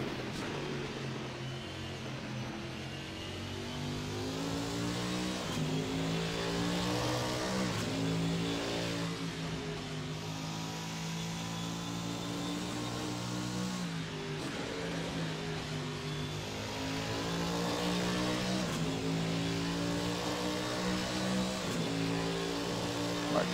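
A race car engine in the racing simulator Assetto Corsa, a VRC Pavey Longhood at Watkins Glen, drones continuously, its pitch rising and falling through repeated gear shifts and revs, loud and steady throughout.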